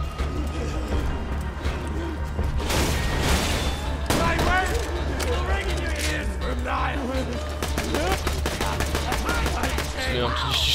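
Gunfire fills a round of the video game Borderlands 2, with dense rapid bursts of shots and booms over steady game noise, and a player's voice is faintly mixed in.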